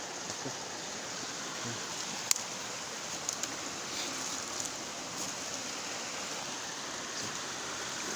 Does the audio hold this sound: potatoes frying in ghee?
no